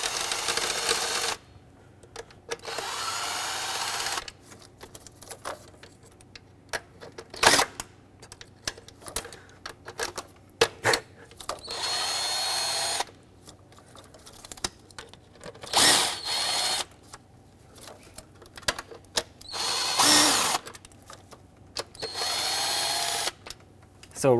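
Power tool loosening intake bolts on a Ford Flex during a VVT solenoid job, heard as repeated short, loud bursts of whirring rattle with quiet pauses between them; no talking.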